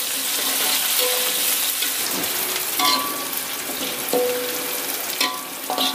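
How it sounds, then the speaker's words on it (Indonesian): Garlic, shallots and chili stir-fried in a pan, a steady close sizzle broken by scraping clinks of a spatula against the metal, with no one talking. "Nah, ini mak gongso dulu ya. Bawang putih, bawang merah,"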